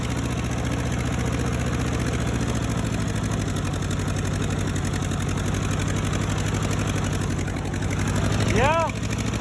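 A completely worn-out Ford 8N tractor engine drones and revs hard under load as its rear wheels spin in second gear, a steady loud low rumble that swells near the end, with people talking over it.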